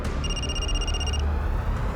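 A telephone rings in a series of bright electronic trills for about a second, then stops, set against a dull low background hum in a police drama scene.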